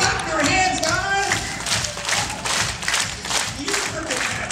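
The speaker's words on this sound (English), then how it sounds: "Clap your hands, guys." An audience at a live science show claps hands in a steady, uneven patter that fills the room, with voices talking over it.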